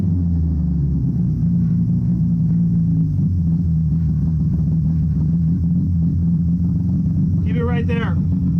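A VW MK1 car engine idles after its idle air screw is adjusted, a steady close low rumble throughout, with a brief voice cutting in near the end.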